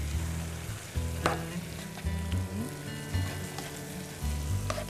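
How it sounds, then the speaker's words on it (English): Beef stir fry with crushed red pepper being stirred in a hot pan: a continuous close sizzle broken by repeated utensil scrapes and knocks against the pan at an irregular rhythm, with no talking. "key is just getting it all stirred together and mixed together"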